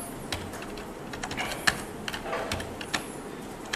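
Computer keyboard typing while entering a module command at a terminal for setting up a GCC compiler and MPI library, heard as scattered light key clicks close by with uneven rhythm and faint room noise, no voices.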